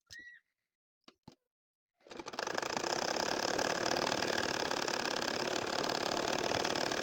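An electric sewing machine stitches curved lines through a nakshi kantha quilt, starting after two seconds of near silence and a couple of faint clicks, then running as a loud, steady, continuous mechanical whir to the end.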